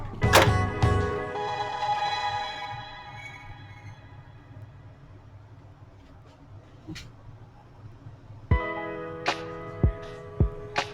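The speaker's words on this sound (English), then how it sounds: "Then remove the waste ink tank." A printer's waste ink tank being pulled out, with plastic scraping and sliding early on, then a series of sharp clicks and clunks near the end.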